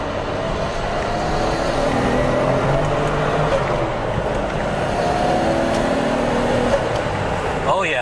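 A Nissan Skyline GTR R32 with an RB26 engine and performance parts accelerates on the road, a steady, loud engine drone with road rumble heard from inside the car.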